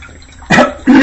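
Two cups of water poured into a cooking pot for ramen noodles, a close, loud splashing gush in two bursts separated by a brief pause.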